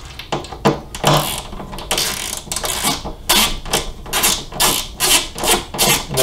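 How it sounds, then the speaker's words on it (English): Screws are backed out of a Harley-Davidson saddlebag lid with a hand tool, giving repeated close ratcheting clicks and scraping turns in bursts, with no talking. "Remove the 4 screws."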